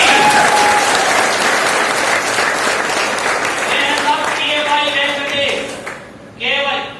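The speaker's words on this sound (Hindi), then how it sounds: "एक बार अपने लिए जवानों वाली तालियां बजाओ" A large seminar audience claps loudly and steadily for several seconds, the applause thinning out toward the end as voices rise over it.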